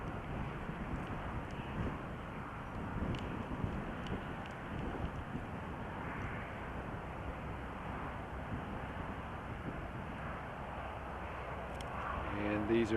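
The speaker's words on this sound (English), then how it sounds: "you can hear the wind blowing hard" Hard wind blows across the open plain at Stonehenge, buffeting the microphone with a steady, low, roaring rumble that never lets up.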